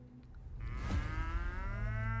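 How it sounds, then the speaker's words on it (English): A cow in the video game Pathologic 3 lets out one long, loud, close moo that rises and holds to the end over a low background rumble. "Cow."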